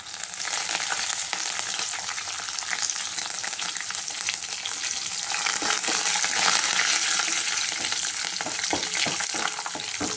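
Dried red chillies, cumin seeds and curry leaves sizzle and crackle steadily in hot oil, a dense close frying hiss with scattered pops and stirring, no voices.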